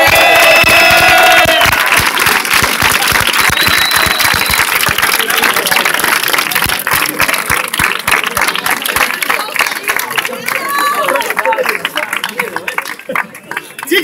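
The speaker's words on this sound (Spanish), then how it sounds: "¡Un aplauso!" A crowd claps and cheers at the close of a Survival Zombies event, with dense, continuous applause running throughout and a steady engine drone beneath it, fading slightly toward the end.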